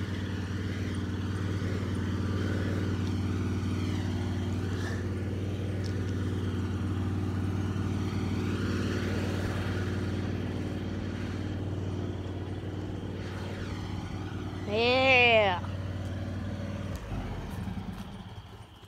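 A John Deere riding lawnmower engine runs right after a cold start, holding a steady, close, droning idle for the whole stretch, with a brief vocal sound rising over it near the end.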